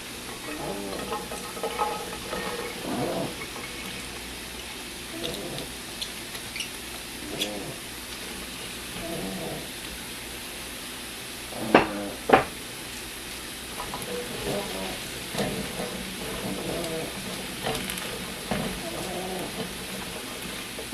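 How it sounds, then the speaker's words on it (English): Fresh green beans pan-fry in a skillet with a soft, steady sizzle, broken by scattered clatters and stirring scrapes and two sharper knocks midway, while someone talks quietly in the kitchen. "you want to pan fry them in the skillet first for, 10 minutes or so"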